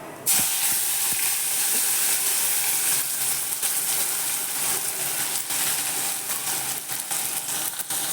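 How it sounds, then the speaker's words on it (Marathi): Onion frying in a pan, a loud continuous hiss and sizzle that starts abruptly and holds steady, with faint scraping flickers throughout. "कांदा चांगला लाल परतून द्यायचा करपवायचा नाही मात्र"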